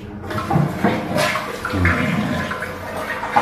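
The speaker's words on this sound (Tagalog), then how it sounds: "I-press mo siya para mag-flush." A toilet flushes with a rushing gurgle of water that swirls and drains for several seconds, close by.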